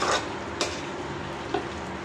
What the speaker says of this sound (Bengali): বাইরে পানিটা শুকাই নিতেছি